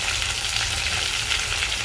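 Masala paste poured into a hot pan for fish curry sizzles steadily and loudly, a dense continuous frying hiss with no talk over it.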